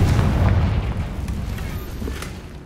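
Confringo and Bombarda blasting spells go off in Hogwarts Legacy: a heavy boom opens, then a rolling rumble with scattered crackles and smaller pops fading gradually over a couple of seconds.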